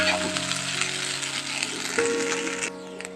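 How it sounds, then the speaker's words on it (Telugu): Egg fried rice with masala fries in a pan over a high flame, giving a steady close sizzle with clattering stirring and scraping, a faint tonal hum running underneath. "ఇప్పుడు మంట అనేది హై ఫ్లేమ్లో పెట్టుకొని నీట్గా ఫ్రై చేసుకోవాలి."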